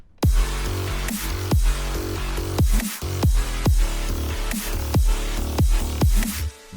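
Electronic dance drop built on a custom gritty wavetable Serum synth, with punchy repeated kick hits under a dense buzzing distorted bass and synth layer, loud and continuous.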